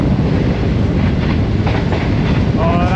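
A Green Line express train thunders through Harappa station at speed, its loud, steady rolling roar and clatter of wheels filling the whole span, with a faint squeal rising near the end.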